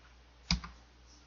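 One crisp keystroke with a quick second tap on a computer keyboard in the Rhino modeling program, then quiet with a low hum.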